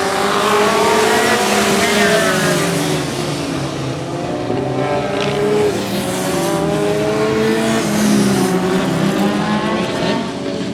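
Stock cars racing at Swaffham Raceway stadium, a loud continuous drone of several engines rising and falling together as they circle the oval, with occasional tire squeal.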